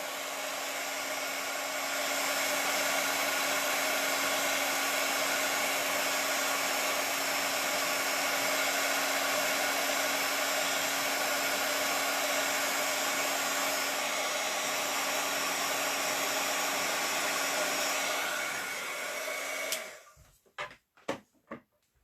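A heat gun blows hot air onto a stamped card in a papercraft session, a loud steady whooshing roar for about twenty seconds that cuts off, followed by a few light taps and handling clicks.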